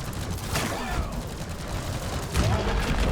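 Engineer's automated turrets fire in Deep Rock Galactic, a dense, continuous rattle of gunfire with a louder burst near the end, steady and close under busy game noise.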